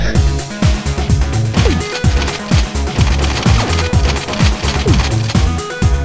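Rapid, loud gunfire from a video game machine gun or shotgun pounds in a fast, continuous rhythm of heavy repeated shots, with little else heard.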